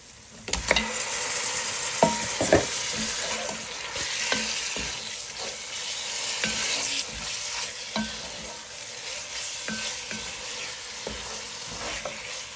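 Meat for haleem stirred and fried in a pot, a continuous sizzle broken by sharp spoon knocks and scrapes against the vessel, loudest in the first few seconds and then settling into an even fry.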